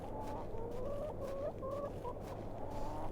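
Chickens clucking in the point-and-click adventure game The Excavation of Hob's Barrow: a continuous run of soft, warbling clucks over a low rural ambience, with no talk.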